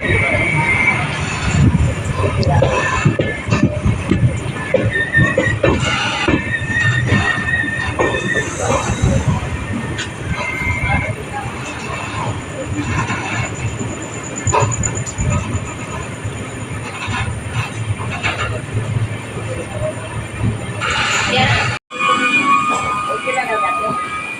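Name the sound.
train NB 20604 arriving at Virudhunagar station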